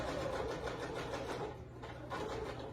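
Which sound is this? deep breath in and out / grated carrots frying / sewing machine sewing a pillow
sewing machine sewing a pillow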